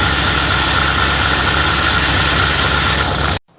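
A car engine idles steadily while warming up before a cooling system flush, a loud, close, even rumble that cuts off abruptly at the end.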